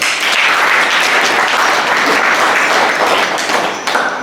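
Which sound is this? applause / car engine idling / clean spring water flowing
applause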